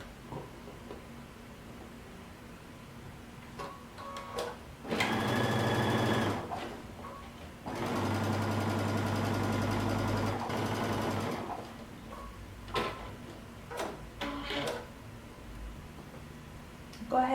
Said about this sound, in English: and we're going to sew close to the edge.